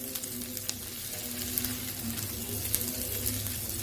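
Vegetables sizzling and frying in a pan, a steady soft crackle with faint scattered pops and occasional stirring, heard alone and fairly quiet.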